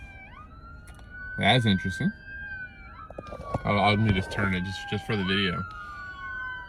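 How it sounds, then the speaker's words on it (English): Police sirens wail steadily in the background, their pitch sliding as they pass, while someone talks nearby over them. "Sorry for the sirens about to come."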